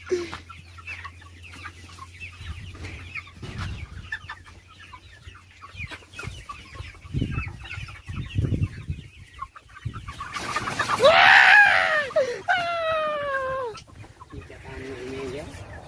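Free-range village hens clucking and squawking on a Marathi farm, with several birds calling at once; a loud flurry of alarmed cackles rises near the end as people talk nearby.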